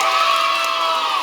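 A group of children at a Jollibee party cheering and shouting loudly together in one sustained, bright burst of voices.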